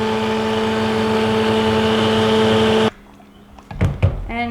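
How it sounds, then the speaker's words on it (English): A blender mixes olive oil, castor oil and additives for goat milk soap with a steady, close motor whine that cuts off abruptly after about three seconds, followed by a few handling knocks and clatters. "now I'm going to blend my olive oil and castor oil and all of my additives"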